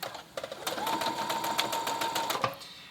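A sewing machine runs a long basting stitch over a skirt seam, a close, steady mechanical whir with quick rhythmic clatter lasting a couple of seconds.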